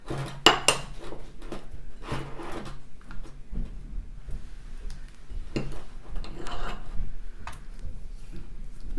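Spoon scraping and clinking against a measuring cup while scooping butter, irregular knocks and taps with a few sharper clanks, close and alone in a quiet kitchen.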